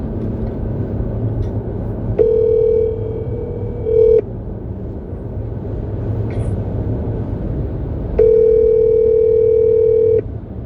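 A phone call to Marcellus Wiley rings out: two long, steady ringback tones a few seconds apart over a low background hum.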